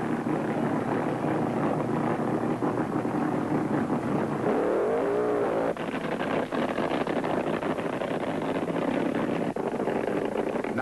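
A drag race car roars through an eighth-mile run at a 1974 IHRA event in Charlotte, a loud, sustained engine blare that sweeps past partway through with a rising and falling pitch.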